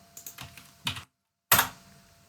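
Typing on a computer keyboard, a quick run of light key clicks and a clustered burst, a short silent pause, then one louder final keystroke like Enter.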